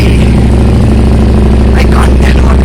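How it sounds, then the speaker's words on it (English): A Harley-Davidson Street 750 motorcycle idles with a loud, deep throbbing exhaust, briefly revving near the end as a voice speaks over it. "the exhaust is so loud that I can't hear my voice"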